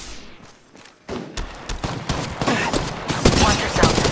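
Rapid gunfire in a squad-based shooter video game, starting quieter then swelling into loud, dense automatic bursts with thumps and impacts, mixed with faint voices.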